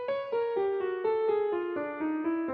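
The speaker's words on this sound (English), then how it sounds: "the retrograde would sound like this." Piano plays a twelve-tone row in retrograde: about eleven distinct notes struck one after another at a steady, even pace, with clear sustained harmonics, close and alone.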